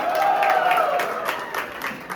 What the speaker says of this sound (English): So can we have a big round of applause, everyone?